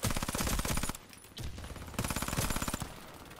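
Uzi Pro SMG with a silencer firing in the shooter game Warface, two long rapid full-auto bursts of clattering shots, loud and close, separated by a brief pause with a short spurt between.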